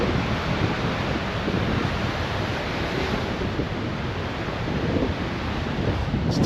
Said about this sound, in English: Look at them waves coming in.